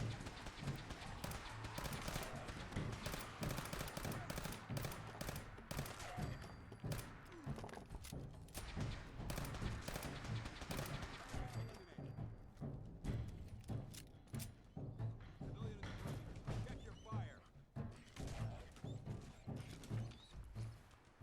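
Pistol gunfire in the video game Fallout 4 during a survival-mode Brotherhood of Steel mission, a long run of sharp rapid shots and impacts over a low droning game backdrop, dense at first and thinning later.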